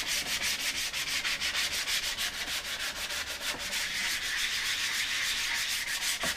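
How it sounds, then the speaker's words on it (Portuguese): Fine sandpaper is rubbed over a wooden skateboard deck in quick, rhythmic back-and-forth strokes, close and continuous, with no voices. "Ó como ela lixa legal."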